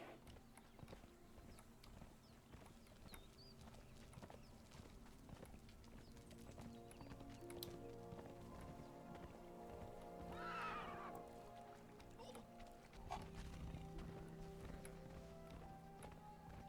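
Horse hooves clip-clopping in the video game Conan Exiles as a ridden horse moves near a cliff, a faint steady patter under game ambience and music, with a brief whinny partway through.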